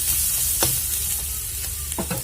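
Fish curry with turmeric sizzles steadily in a pan while a spoon scrapes and stirs it in a few distinct strokes, the frying hiss running loud and close throughout.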